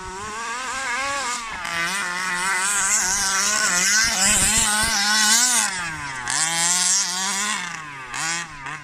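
A Rovan Baja RC car's small petrol engine runs at about half throttle, a loud, steady buzzing drone with wavering pitch that rises and dips slightly across the whole stretch, with no talk.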